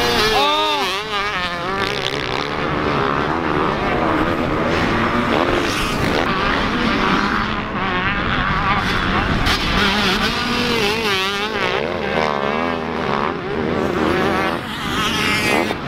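Dirt bikes racing at a KROC18 dirt bike event, a 125 among them, with several engines revving and whining up and down continuously under excited shouted commentary.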